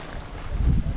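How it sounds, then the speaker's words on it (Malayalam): Light wind blows across the microphone at a fog-covered viewpoint in Matheran, a low rumbling gust that swells slightly toward the end, with no voices. "നല്ല ചെറിയ കാറ്റടിക്കുന്നുണ്ട്"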